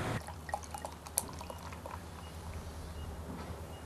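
Rogue Ales Voodoo Doughnut Mango Astronaut Ale pours from a freshly opened can into a glass, a faint, steady liquid trickle with a few soft drips and clinks and no talking.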